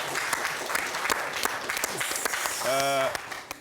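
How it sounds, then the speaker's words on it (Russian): A television studio audience applauding, scattered claps building into steady clapping, with voices and a brief tonal sound mixed in near the end. "Аплодирую."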